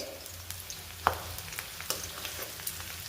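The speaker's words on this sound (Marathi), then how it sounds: "तर चला कांदा पण मी व्यवस्थित परतून घेते" Onion sautéing in oil in a pan, a low steady sizzle with a few soft stirring clicks, close and fairly quiet.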